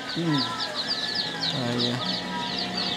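Darag native chickens cluck repeatedly and close by on a farm hatchery, with a voice speaking over the birds.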